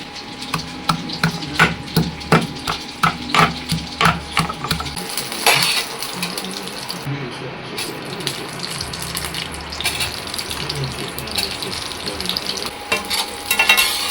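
Capsicum frying in a pan, a close sizzle with a run of rhythmic metallic clinks and scrapes early on, then a steadier crackling hiss, without speech.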